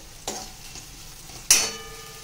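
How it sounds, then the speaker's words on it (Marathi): Cashews frying in a pan give a soft steady sizzle, with two sharp stirring scrapes standing out near the start and middle of the short stretch, close by and with no speech. "थोडेसे काजू आणि हे तळले गेले पाहिजे."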